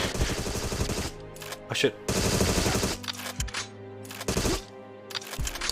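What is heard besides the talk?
gunfire shooting in video game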